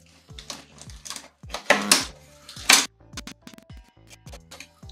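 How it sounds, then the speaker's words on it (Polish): A cardboard toy box is torn open by hand without cutting, with two loud, close ripping bursts among sharp clicks and knocks. "Otwieramy, rozwalamy pudełko."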